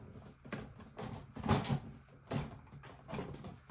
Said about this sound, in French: Oups, j'ai un tiroir qui est coincé.